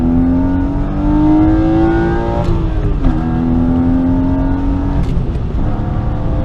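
BMW M5x with a naturally aspirated, tuned S52 engine accelerating hard through a pull, a loud, steady rising drone with a brief dip at a gear change.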